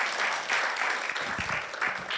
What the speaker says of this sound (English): Can we give another round of applause to Dr.